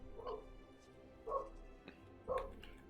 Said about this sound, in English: I don't know what she's barking at